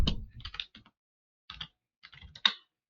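Fingers type code on a computer keyboard in short irregular bursts of crisp, close clicks, separated by brief pauses, with a sharper tap near the end.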